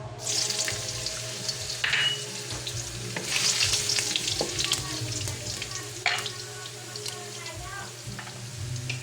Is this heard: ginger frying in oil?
yes